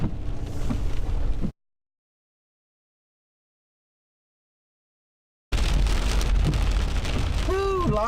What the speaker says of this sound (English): That's quite the storm.